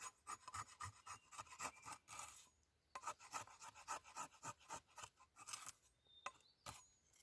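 An Esee Expat Darian machete saws back and forth through wood outdoors, a rhythmic series of close, raspy strokes with a short pause midway and a few more strokes after.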